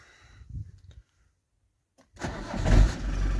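A camper van engine cranks briefly after a few faint clicks and a pause, then catches and settles into a loud, close idle with a jump starter booster connected to the battery.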